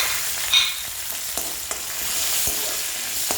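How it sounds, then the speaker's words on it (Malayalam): Chana dal, urad dal, peanuts, green and dried red chillies and curry leaves frying in oil in a pan after mustard seeds have spluttered, a steady close sizzle with a few light stirring clicks, no voices. "എണ്ണ ഒഴിച്ച് കടുക് പൊട്ടിച്ചതിന് ശേഷം ഇതെല്ലാം, ഈ പരിപ്പുകളെല്ലാം കൂടെ ഇടുക"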